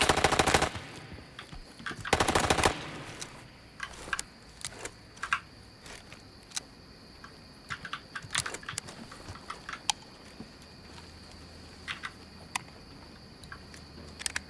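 Rapid bursts of automatic gunfire and scattered single shots in the extraction shooter video game INCURSION Red River, with loud volleys at the start and sharper intermittent shots continuing throughout.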